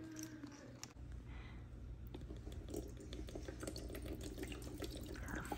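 Water trickles into a small toy potion bottle from a Magic Mixies set, a soft, steady pouring splash with faint clinks, fairly quiet and close.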